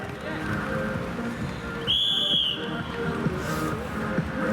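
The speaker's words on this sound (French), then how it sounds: "Coup de sifflet de l'arbitre." A single sharp, short referee's whistle blast rings out over a noisy indoor crowd at a cadet-level match, with shuffling and bouncing sounds.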